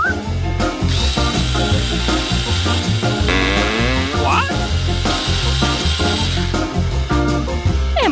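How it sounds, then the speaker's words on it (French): Power drill boring into a watermelon, a loud steady whining motor hum with shifting pitch as the bit bites, running almost continuously. "Pourquoi t'as besoin d'une perceuse pour une pastèque?"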